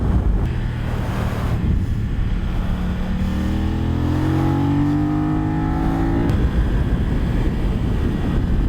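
Motorcycle leaned far over at high speed on Bridgestone Battlax S23 hypersport street tires, traction control engaging. The engine drone climbs steadily in pitch, then drops as a gear changes, under heavy rushing wind noise.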